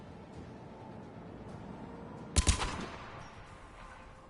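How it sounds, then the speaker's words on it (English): Anti-aircraft guns in Mass Effect 3 fire on Cerberus ships in two sharp, loud bursts close together, standing out over a steady low background hum. "the guns are already picking Cerberus ships out of the sky"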